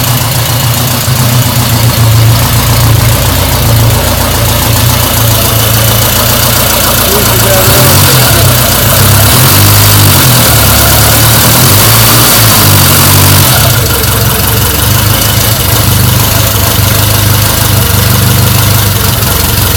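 A 1949 Ariel Square Four motorcycle engine starts and settles into a loud, steady, close-up idle with a pulsing low rumble and a few blips of revving partway through.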